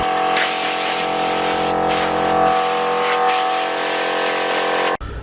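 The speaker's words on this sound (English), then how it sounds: "the compressor's been going non-stop as you can hear" An air compressor runs continuously in a workshop, a loud, steady hissing and whining drone with a sharp cutoff near the end.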